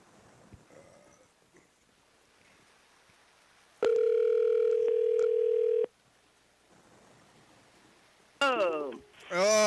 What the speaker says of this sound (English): Phone tag with Gene.